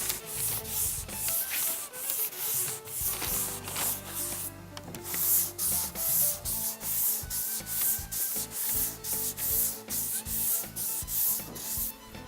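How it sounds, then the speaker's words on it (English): Sandpaper on a sanding block rubbed back and forth across a car body panel, a steady rhythmic rasping of repeated strokes, close and fairly loud, with no talk. "So if you go ahead and you sand, you block"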